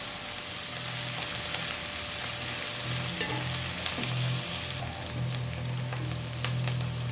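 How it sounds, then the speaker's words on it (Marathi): Curry leaves crackle in hot oil for kande pohe while being stirred in the pan, giving a close, steady, dense sizzle with occasional scraping of the spoon. "कढीपत्ता टाकून घेऊया व्यवस्थित हलवून घ्यायचं"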